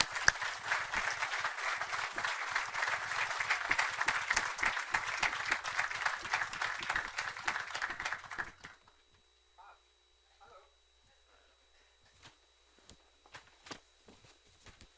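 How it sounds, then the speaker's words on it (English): An audience at an aviation symposium gives a loud, dense round of applause to welcome a speaker. It stops abruptly after about eight seconds, leaving a quiet room with scattered footsteps and small knocks. "Please give him a round of applause."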